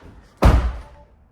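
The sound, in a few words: car door closing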